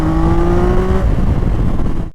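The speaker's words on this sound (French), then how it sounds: "J'espère que vous entendez bien le bruit des motos" A Yamaha XSR 900 three-cylinder motorcycle revs hard, its steady engine tone holding for about a second before dropping into a rough, loud idle-like rumble that cuts out abruptly at the end.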